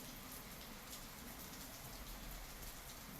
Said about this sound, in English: Can you hear the rain? You hear the rain.